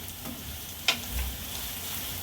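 Spiced oil tempering for Mumbai street-style vada pav sizzles faintly and steadily in a pan as turmeric goes in, with one sharp clink of a spoon partway through.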